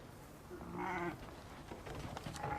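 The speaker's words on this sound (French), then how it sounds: "Monter les moutons dans la montagne." Sheep being driven up into the mountains give one clear, wavering bleat at moderate distance over a steady outdoor hiss.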